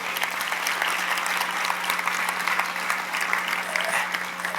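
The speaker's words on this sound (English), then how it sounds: "A big round of applause to all of them." An audience at a chiropractic event claps in a sustained, even round of applause, with a steady low hum running underneath.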